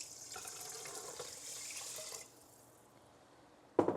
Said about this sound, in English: I'm going to add all of my water mixture here.